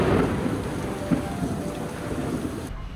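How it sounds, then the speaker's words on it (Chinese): A heavy thunderstorm downpour at night over a street night market in Taiwan, a dense, steady roar of rain on surfaces with a low thunder rumble, loud and continuous, then cutting off sharply near the end. "晚上我们来到宁夏街夜市觅食，遭遇了大暴雨"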